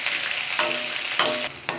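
Chopped big onion sautés in a pan for a coriander rice, a steady bright sizzle with a few brief stirring scrapes, close and loud.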